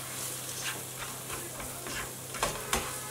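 Vegetables and egg stirred in a frying pan for chicken Hakka noodles, with a steady sizzle and a few light scraping strokes of the utensil against the pan.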